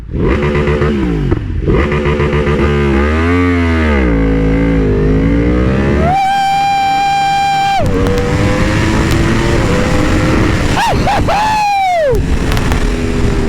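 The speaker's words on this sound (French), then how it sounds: "le launch control, les gars, je vous en fais un, c'est cadeau" A remapped Yamaha R1M motorcycle of about 210 horsepower revs hard on launch control. Loud, close engine sweeps lead into a sustained held rev, followed by sharp rising and falling bursts.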